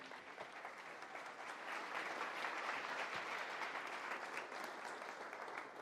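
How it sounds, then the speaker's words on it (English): A tech conference audience gives a sustained round of applause, a steady wash of many hands clapping at moderate distance, fairly soft and even throughout. "Maybe one round of applause"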